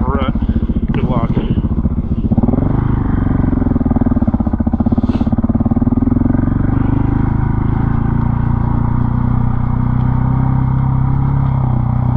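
A 2020 KTM 690 Enduro R motorcycle straining to climb out of a rut on a tough trail, its engine revving loud and close with a rising then steady drone, while a rider talks over it.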